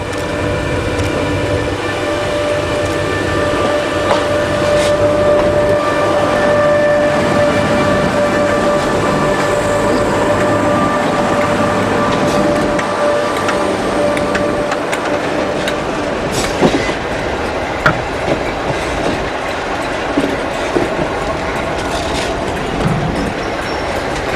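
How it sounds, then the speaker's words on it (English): Charter train from Liverpool Street hauled by two hired-in locomotives arriving at Norwich station, a steady loud rumble of engines and wheels with a sustained tonal whine, occasional wheel clanks and squeals toward the end, no talk. "This is the Liverpool Street charter arriving at Norwich in connection with the A-Corp weekend, sporting a couple of locos hired in for the day"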